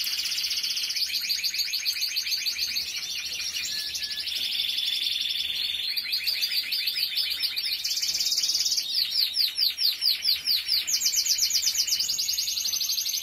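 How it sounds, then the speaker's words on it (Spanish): A caged songbird kept for breeding and song selection sings loudly and close, pouring out rapid trills and repeated chirping phrases that run almost without pause, with no talking over it. "Vaya pájaro."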